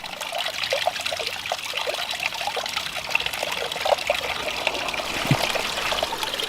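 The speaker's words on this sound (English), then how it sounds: "We're getting a lot of splatter from the waterfall." Water splattering and trickling from a leaking garden waterfall, a constant close rushing splash with scattered droplet impacts and no voices.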